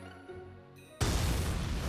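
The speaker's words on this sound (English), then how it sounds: "An explosion has occurred on board." A sudden loud blast on board a ship in the video game Valkyria Chronicles 4 cuts into quiet music, then sustains as a dense, rumbling roar.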